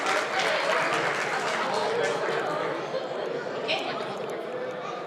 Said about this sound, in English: A round of applause for this lovely lady.